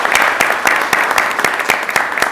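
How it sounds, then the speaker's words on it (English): A small group at a town board meeting in Farmville, North Carolina gives a round of applause, individual claps distinct and close, fairly loud and steady. "can we give a round of applause to the organizations that helped with the collapsed church there?"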